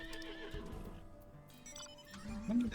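A horse whinnies over faint hoof clip-clops in Final Fantasy XIV: Dawntrail, with quiet background music and a brief voice, ending in a louder neigh.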